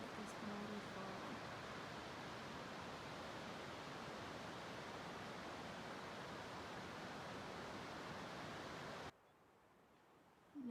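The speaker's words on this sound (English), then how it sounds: "Look at this waterfall." Steady broadband roar of a waterfall on a mountain trail, continuous and full for about nine seconds before cutting off abruptly.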